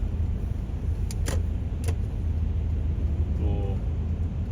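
Steady road traffic rumble of cars merging onto a congested Seoul expressway from the Gangbyeon riverside road, a continuous low drone with a few brief higher swishes of passing vehicles.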